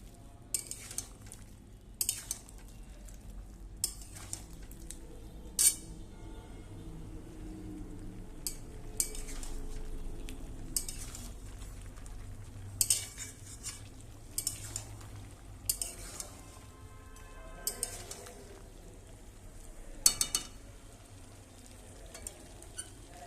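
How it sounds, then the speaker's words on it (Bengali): Ginger-garlic paste, dry chilli powder and coriander-cumin powder stirred in a pan for chilli chicken, a spoon scraping and clinking steadily against the metal over a low sizzle, with sharp taps recurring every second or two, close by and with no talk. "এবার আমি ভালোভাবে নাড়ব।"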